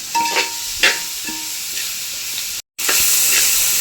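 Clams heating and being stirred in a pan for a Kerala-style clam fry, giving a steady close sizzle and hiss with repeated scraping stirs and a very brief dropout near the end.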